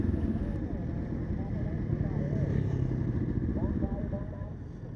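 Honda Rebel 1100 motorcycle riding ahead on a demo ride, a steady low engine drone and wind rumble held throughout, with a voice talking over it.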